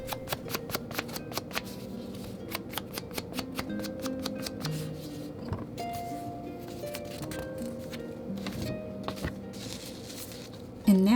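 Paper being trimmed for a handmade vintage Christmas pocket folio: a series of quick, crisp snipping cuts, close and fairly quiet, coming in rapid clustered bursts with brief pauses between them.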